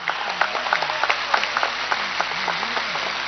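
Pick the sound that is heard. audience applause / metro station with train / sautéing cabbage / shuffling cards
audience applause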